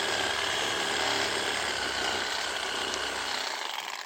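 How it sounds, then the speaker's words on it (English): Rotary saw cutting, worked like a chainsaw, giving a loud, continuous buzzing whine that holds steady throughout, close up and with no speech. "The rotary saw, like a chainsaw, watch."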